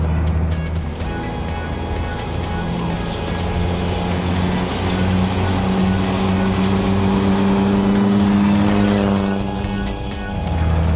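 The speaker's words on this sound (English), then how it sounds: "This is the best shifting Duesenburg I've ever been in" An old Duesenberg car engine hums and drones steadily from inside the cabin, rising and falling as it drives along.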